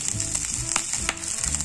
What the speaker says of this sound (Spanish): eso quiere decir que ya van a empezar a dorarse el tocino y va a empezar a cocerse nuestra cebollita.